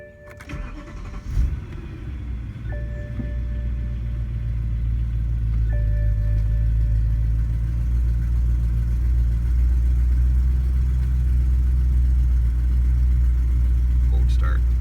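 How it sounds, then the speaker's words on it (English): A BMW E92 M3 with 121,517 miles fires up from cold: a brief starter whir, then the engine catches and settles into a loud, steady, deep idle rumble that holds for the rest of the clip. "Cold start. It's a little bit louder than normal."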